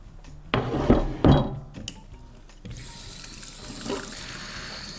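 A cutting board is rinsed at a kitchen sink: running water and a few sharp wooden knocks and clatters up front, then a softer steady trickle of water.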